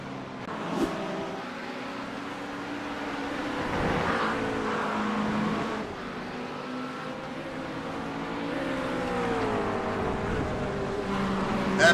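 A BMW GT3 race car circulates at Brands Hatch with a continuous engine drone that rises and falls through gear changes and acceleration, heard steadily at moderate distance without any talking.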